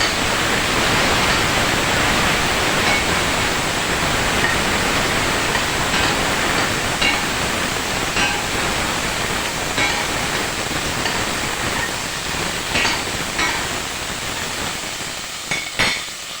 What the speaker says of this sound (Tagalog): Lagyan natin ng sabaw.